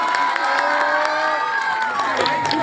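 A crowd at a devotional singing performance cheers, shouts and claps in a loud, continuous burst, with excited voices and whoops mixed in.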